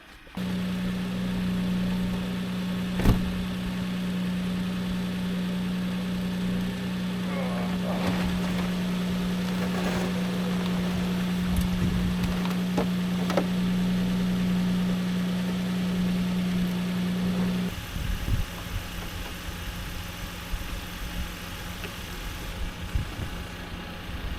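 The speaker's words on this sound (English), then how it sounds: "I gotta bring my truck around now." Truck engine idling outdoors at a snowy off-grid property in winter, a steady low drone for most of the clip that cuts off near the end, leaving faint handling noises.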